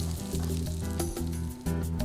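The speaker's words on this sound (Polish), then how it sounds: "Na drugiej patelni podsmażam pokrojone papryki i cebulę" Sliced bell peppers and onion sizzle steadily in a hot pan, a continuous crackling fry heard close up with a low hum underneath.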